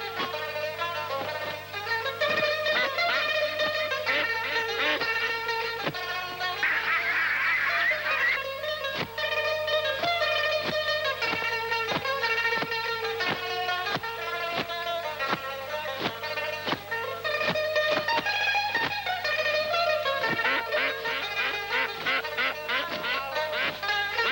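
Ducks quack repeatedly in a lively, overlapping chorus, with some honking calls mixed in, loud and close and continuing for the whole stretch without any speech.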